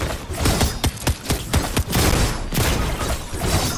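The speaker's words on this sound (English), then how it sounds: "He's shooting at me." Video game gunfire in a firefight, a quick series of loud sharp shots and bursts close by, spaced irregularly across a few seconds.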